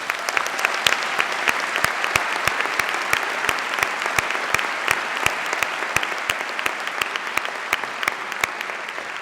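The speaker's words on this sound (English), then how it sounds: "would you please all join me in giving them a warm round of applause" Audience at a Birmingham City University graduation ceremony applauding musicians, a steady, dense wash of many hands clapping with sharp rhythmic claps standing out, sustained evenly throughout without talk.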